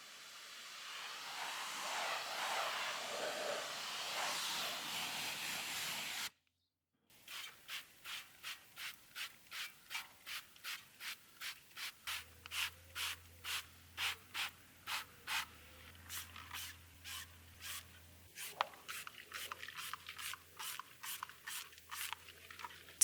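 A citrus pre-wash mixture is sprayed onto car wheels as a long hissing spray, followed after a brief pause by a brush scrubbing the wheels in quick, repeated rhythmic rubbing strokes, close and fairly quiet.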